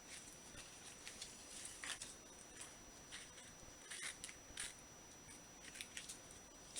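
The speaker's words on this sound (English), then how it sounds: "this time it's easier to cut it with the scissors" Scissors snip through paper in short, crisp cuts at an uneven pace while folding a paper twist box for a Chinese thread book; faint and close, with no talk.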